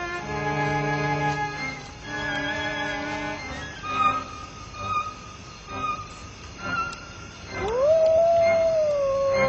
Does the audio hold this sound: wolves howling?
yes